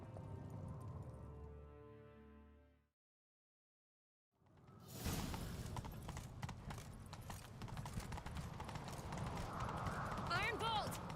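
Horse hooves clip-clop and gallop in The Witcher 3 during a chase, a steady drumming rhythm rising after a brief silence, with game music and a voice heard earlier.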